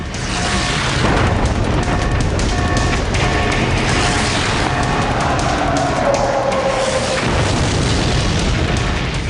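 A bomb explodes on the aircraft carrier Yorktown during the Battle of Midway as a loud, sustained roar of blast and rumbling destruction that fills the whole clip with heavy, continuous noise.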